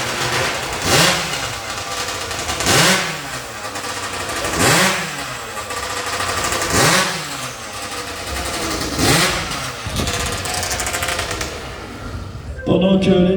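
Ultralight-aircraft engine mounted on a competition chainsaw, pull-started, revving hard in loud repeated bursts about every two seconds over a steady running drone, ending with a brief clatter.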